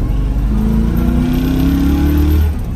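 A 1968 Mercury Cougar with a 289ci V8 and four-speed driving: a loud, close engine drone that rises steadily in pitch as it accelerates, then eases off at the end, with no talk.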